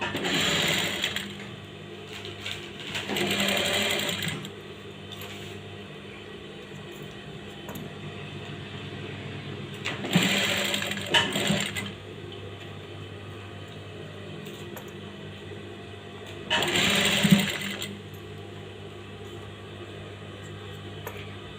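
Sewing machine stitching the neck of a blouse in three short bursts of fast whirring, separated by quieter stretches of low background hum.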